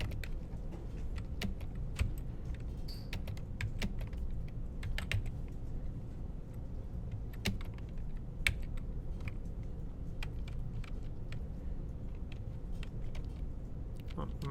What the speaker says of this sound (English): it's going to be better if I just type it in